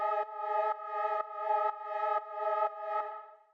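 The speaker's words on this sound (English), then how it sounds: "So then the last synth that we have here is this little drone pad thing," A synth drone pad made with Analog holds a steady stack of tones, pulsing in even, repeated swells about twice a second. It is quiet and plays alone, with no voice.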